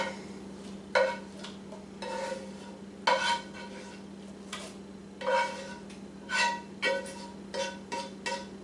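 Sausage is being stirred into a breakfast casserole mixture, giving soft, intermittent scraping and clinking bursts of a utensil against the dish over a low steady hum, close and fairly quiet.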